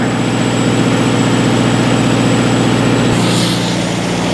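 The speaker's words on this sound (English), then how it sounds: "This is what they call a single stage air compressor" An old Lindsay single-stage air compressor runs and pumps with a steady, loud mechanical chugging throb and a constant whine, close by and uninterrupted, with no voices.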